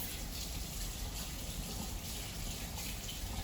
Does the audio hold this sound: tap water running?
yes